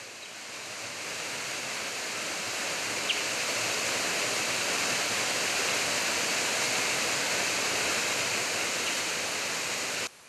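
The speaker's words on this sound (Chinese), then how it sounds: "清澈的溪水，大自然的声音，让人心旷神怡" Jiadong Waterfall in Xizhi pours into a clear stream, a loud, steady roar of falling water that holds evenly throughout with no voices.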